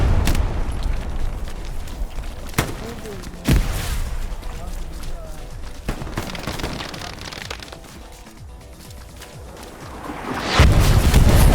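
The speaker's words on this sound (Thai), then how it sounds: "โดนระเบิดอีกแล้ว" Several sharp booming blasts from a game erupt amid busy gameplay noise and chatter, with a heavier rumbling burst near the end.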